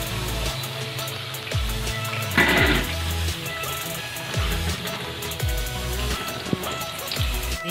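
Raw potato pakoras deep-frying in hot oil for a fasting recipe, a dense, steady crackle and sizzle with close, irregular popping bursts throughout and no voices.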